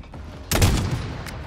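A single sharp sniper rifle crack bursts out mid-match in a battle royale video game, followed by a rolling tail and a couple of faint later cracks.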